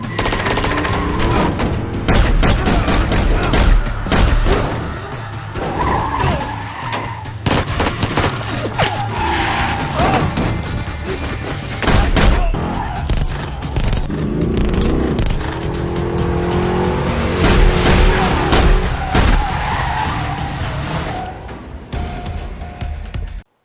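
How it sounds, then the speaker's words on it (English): Dense action-movie mix of a car driving hard while someone fires from it, with rapid bursts of automatic gunfire, engine roar and tire noise layered loudly and continuously, plus brief faint voices. "He can drive and shoot at the same time."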